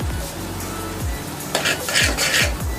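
Spice masala fries in hot oil with dried fenugreek leaves while a spoon stirs and scrapes repeatedly around the pan, rhythmic metallic scraping over a steady sizzle, close and clear.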